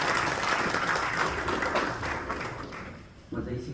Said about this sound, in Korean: 박수로 크게 맞이해 주시기 바랍니다.